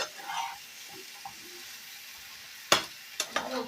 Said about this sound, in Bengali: সবগুলোর ভেতরে দিয়ে দেব আবারও একটু নেড়ে চেড়ে দিতে হবে